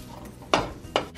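A utensil breaks up sausage as it browns in a pan, giving two sharp metallic clanks against the cookware over a low background hum.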